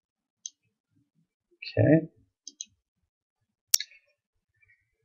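Light, crisp clicks on a payment terminal screen during setup, a handful of single and paired taps spread out, with one person briefly speaking between them.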